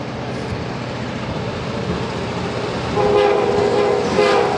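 Freight train CN 438 rumbles past near a bridge with a loud, continuous roar of wheels and cars, and a sustained horn blast rises over the noise toward the end.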